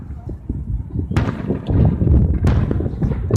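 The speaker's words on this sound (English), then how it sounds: "it's just the sound, the echo of the fireworks" Fireworks burst at an outdoor show in Rapid City, with sharp booms and rolling echoes over a constant rumble of crowd noise.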